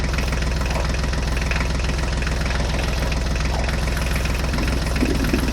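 A truck engine runs at a steady pace as the vehicle drives on, giving a constant low rumbling drone with a regular throbbing pulse and no voices over it.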